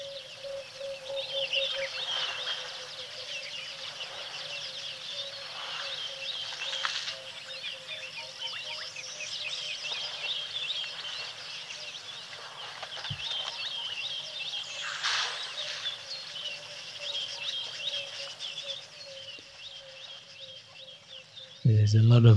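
Many birds call in the African bush on an overcast morning, including emerald-spotted wood doves, a bushshrike and a white-browed scrub robin. The dense, continuous chorus of chirps and whistles at moderate distance carries on for over twenty seconds, with no one speaking.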